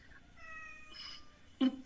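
A cat gives a short, fairly close meow near the end. Quieter tonal sounds and faint background noise come before it.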